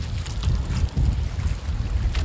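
Steady low rumbling wind buffets the microphone while fishing, with gusts and faint water sounds, no voices.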